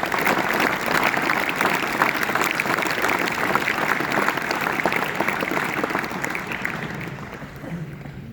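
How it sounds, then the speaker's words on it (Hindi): A crowd of schoolchildren applauds their teacher with loud, sustained clapping that fills the room for several seconds and gradually tapers off, with faint voices underneath. "एक बार अपने गुरुजी के लिए जोरदार ताली बजाओ आप सब बच्चे"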